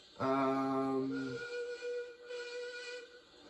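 A steam train's whistle blasts loudly for about a second, then steady hissing and rumbling carry on as the train rolls past nearby.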